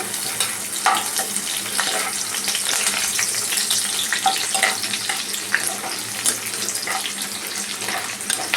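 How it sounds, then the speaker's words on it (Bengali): Onions frying in a pan until translucent, a steady dense sizzle and crackle with occasional stirring scrapes, close and fairly loud throughout. "পেঁয়াজটাকে ট্রান্সলুসেন্ট করবো, মানে একটু পিঙ্কিশ ভাব আসবে"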